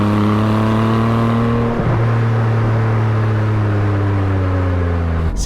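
Porsche 718 Spyder engine on its stock exhaust, a loud, steady low drone with a constant hum that shifts pitch slightly partway through, heard close and alone.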